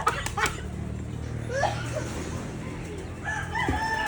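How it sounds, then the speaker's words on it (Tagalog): A talking bird's squawky, voice-like calls come in brief bursts against a low background hum, with faint noises around it, at a zoo and butterfly garden in Bohol. "Tumasagot yung ibon."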